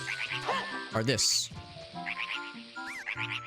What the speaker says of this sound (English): The bomb noises in this game are